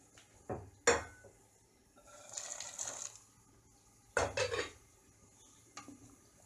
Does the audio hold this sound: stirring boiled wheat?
yes